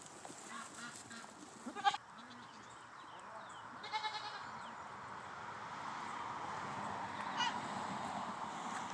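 Goats bleat faintly on a small homestead farm near a road, a few short distant calls scattered over steady outdoor background noise.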